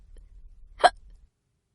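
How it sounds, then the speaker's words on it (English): A single clear hiccup from a cartoon cat, one short sharp burst standing alone over a faint low hum. "Pete still has the hiccups."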